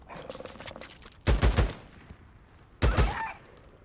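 Gunfire in the video game Days Gone: two loud, heavy bursts of rapid shots about a second and a half apart, over a quieter background of game ambience.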